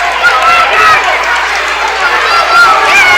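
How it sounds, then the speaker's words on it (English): A packed crowd of Hawk fans, the orange and black faithful, roars steadily through a high school Class 2A district wrestling match, a broad continuous din of cheering and chatter with a commentator talking over it. "What a crowd, Jamie, by the Hawk fans"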